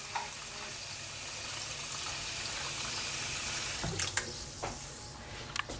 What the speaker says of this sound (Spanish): Enfriamos la pasta con agua fría